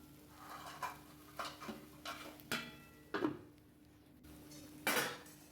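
A spoon stirs a vegetable stalk curry (danta chorchori) in a cooking pot, giving a handful of light, scattered clinks and scrapes against the pot. The clinks are faint, irregular and spaced about a second apart, with no talking.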